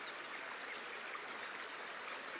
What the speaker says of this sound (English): the dancing creek bubbling along